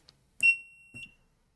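A sharp click as a button is pressed, then a single high-pitched beep from a piezo buzzer on a Raspberry Pi Pico that holds steady for about half a second before a second short click and tone.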